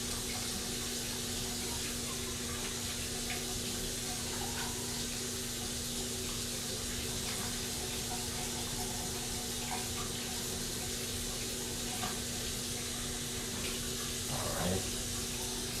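A bathroom tap runs steadily for face washing, its full, even hiss of water flowing continuously throughout, with one brief spoken word near the end.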